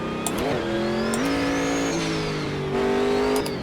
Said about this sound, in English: The car makes some glorious sounds.